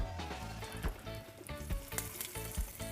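A tadka of mustard seeds, cumin, hing and curry leaves sizzles in hot oil for a beetroot raita, a steady, close frying hiss with crackles and pops and a few soft stirring knocks.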